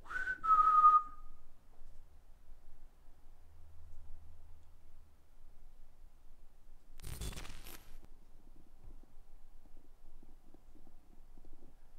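A short, eerie rising whistle heard in a care home, faint and brief at the very start, followed by long near-silence broken by one dull low thud and a burst of clatter.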